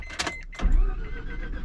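A Mazda FD RX-7 barn find, a rotary-engined car long unused, cranks briefly with a whirring starter and then catches, firing into a low, rough idle close by, without talk.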